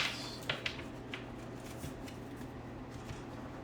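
Soft, faint riffling of tarot cards being bridge shuffled, with a few light flicks and taps over a quiet background hum.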